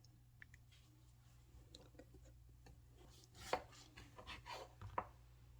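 A knife cuts gluten-free pumpkin bread, giving quiet, close crunchy slicing sounds with a couple of sharper knocks near the end, over a low steady hum.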